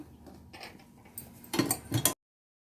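A sewing machine makes a short run of stitches through folded fabric during thread piping, giving rapid mechanical clatter in two brief close bursts after quiet handling noises.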